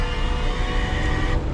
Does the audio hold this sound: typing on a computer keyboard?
no